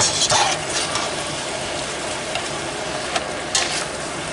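Tomato coulis being stirred into a turkey sauté in a sizzling pan, with a steady fry hiss and occasional scraping strokes of the spoon, close and moderately loud, with no talking.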